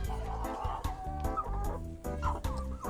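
Several backyard chickens cluck in a loose, repeated rhythm close by, layered short calls with no talking over them.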